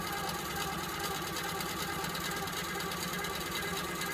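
A longarm quilting machine runs in manual mode with a steady, continuous mechanical hum and rapid needle chatter, close and even throughout, with no voices.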